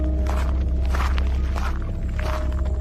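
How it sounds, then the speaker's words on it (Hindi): Slow footsteps approaching from behind in the dark, a horror-story sound effect of several heavy, evenly spaced steps over a low, steady rumble, with no voices. "पीछे से किसी के कदमों की आहट"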